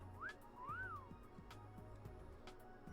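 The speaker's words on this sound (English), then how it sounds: "My ears perk up at the sound of somebody whistling up the road behind me." Someone whistles up the road in a video game: two short melodic whistled phrases, rising then falling, heard early and fairly clear over a steady ambient game background with soft thuds.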